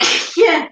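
A woman sneezes once during a casual live-stream chat about wrestling, a sharp close burst with a brief breathy release, following a short spoken word.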